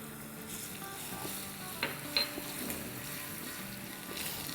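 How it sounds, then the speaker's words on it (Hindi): Dried fenugreek and crushed garlic sauté in oil in a pan, a faint, steady sizzle with a few soft stirring clicks, no voices. "इसको सौटे करेंगे और अब इसमें डाल देंगे 1 टेबलस्पून कुटा हुआ लहसुन"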